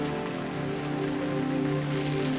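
Steady rain falling in the sci-fi adventure game Gemini Rue, a continuous hiss of drops on surfaces with faint tonal game music underneath, no voices.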